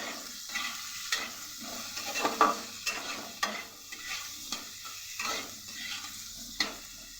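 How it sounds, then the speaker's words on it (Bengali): Potatoes fried with salt and turmeric, close spatula stirs scraping the pan in an irregular rhythm over a soft, steady sizzle, quiet overall, with no talking. "অল্প পরিমাণ নুন আর হলুদ দিয়ে আলুটাকেও সুন্দর করে ভেজে নেব।"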